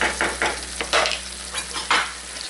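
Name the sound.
sauce reducing and sizzling in a pan over high heat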